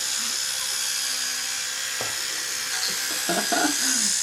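Toothbrush working along a dog's gums, a steady close buzzing hum throughout, with brief bursts of a voice and small scrubbing noises over it toward the end.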